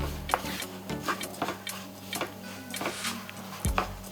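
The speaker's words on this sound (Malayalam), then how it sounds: "നമ്മുടെ ഈ അവിലും തേങ്ങയിലേക്കും ഒഴിച്ചു കൊടുക്കുക. നന്നായി ഒന്ന് ഇളക്കി." Spoon stirring beaten rice (aval) with grated coconut and melted jaggery in a metal pot, giving soft repeated scrapes and light clinks in an irregular rhythm, close and moderately quiet, with no talk.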